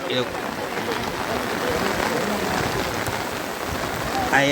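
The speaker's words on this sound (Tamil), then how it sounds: "நன்றாக மழை பெய்து கொண்டிருக்கின்றது" Heavy rain pours steadily onto surfaces outdoors near a Gujarat seaside temple, a dense, loud, continuous hiss with spattering drops, close by and unbroken throughout.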